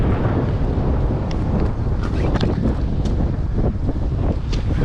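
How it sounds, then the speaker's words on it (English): Strong wind on a high bridge buffeting the microphone in a constant loud rumble, gusting unevenly for several seconds with no voices. "it's windy up here"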